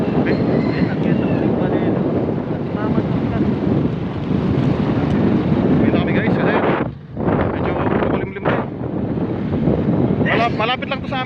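A loud, steady boat motor drone rumbles continuously with wind buffeting the microphone, and voices briefly break through near the end.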